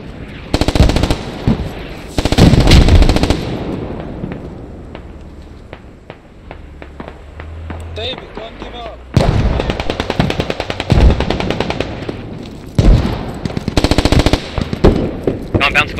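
Bursts of automatic rifle fire in the military shooter game Squad, loud and close, coming in several rapid strings separated by quieter stretches with distant shots and background battle noise.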